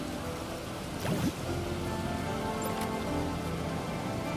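Steady rain hisses down across a tropical theme park in the video game Planet Coaster 2, a soft continuous patter with a brief whooshing swell near the start and no talking.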